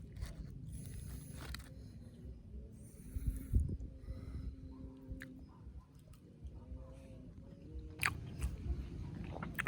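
Someone eats a crunchy snack sprinkled with granulated sugar while alone in a forest, with soft irregular bites and chewing up close against low rustling and outdoor background noise.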